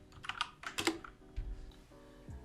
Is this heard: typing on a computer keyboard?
yes